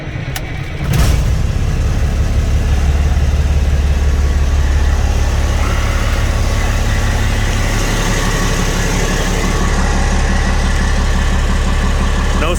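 A 1998 Freightliner FLD112 truck engine cranks and fires up after sitting all day, then settles into a steady, loud, low diesel idle rumble that continues throughout.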